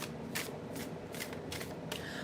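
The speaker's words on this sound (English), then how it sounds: "As I'm shuffling, waiting for the cards to pop up for my earth signs" Tarot cards being shuffled by hand in repeated quick riffles, four or five crisp bursts of papery flutter close up, fairly quiet, with no talking.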